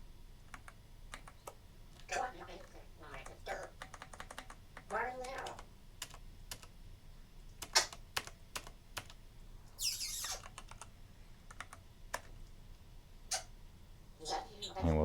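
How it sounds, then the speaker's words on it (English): Keys clatter on a computer keyboard as code is typed for a ThreeJS and Angular application, in scattered quick bursts and single taps, close and moderately loud, with someone talking at times in between. "I believe we can just type right in"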